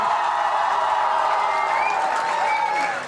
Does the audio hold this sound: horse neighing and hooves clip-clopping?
no